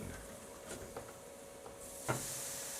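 Marinated chicken pieces hiss faintly on a griddle as they are turned with a short spatula: a steady, quiet sizzle broken by a few soft scrapes and a sharper clack near the end.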